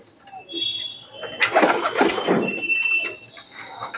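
Racing pigeons at a loft coo softly and intermittently, with a burst of wing flapping in the middle and faint background noise.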